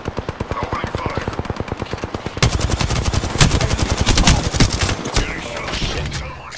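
Automatic gunfire in the video game Apex Legends, long rapid bursts of close shots that grow denser and louder midway, with overlapping weapons and a voice speaking over the shooting.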